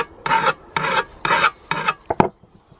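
A file rasps a burr off a blade's cutting edge in a garden setting: four distinct, evenly spaced scraping strokes, close and loud, followed by a couple of quick short scrapes, with no talking.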